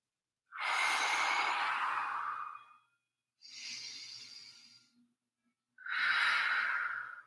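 Three slow, audible breaths, long airy exhales with a pause between each, taken during a yoga stretch in a quiet room, close and clear with no talking.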